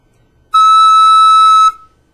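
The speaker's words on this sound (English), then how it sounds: "if you want to blow air really fast to the instrument, you can get a high sound like this" A flute headjoint blown with fast air gives one high, pure whistling tone, loud and close, held steady for about a second before stopping cleanly.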